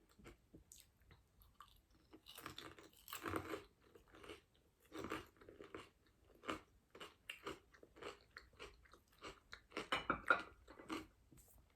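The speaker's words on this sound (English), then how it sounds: "That was very crunchy and very tasty." Close, crisp crunching of a hard, chutney-flavoured snack being bitten and chewed, in irregular bursts that keep going throughout, with no talking.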